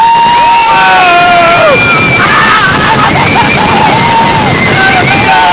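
Riders scream and shout together as the Rattler wooden roller coaster at Six Flags Fiesta Texas plunges down its drop, a loud, sustained mass of high-pitched yells and whoops.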